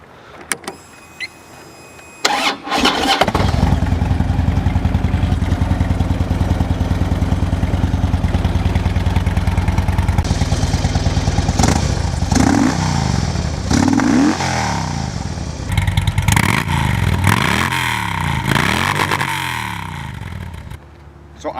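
A motorcycle fitted with S&S aftermarket mufflers cranks and fires up after a couple of seconds, then idles with a loud, steady low rumble, broken by several sharp throttle blips and revs toward the end.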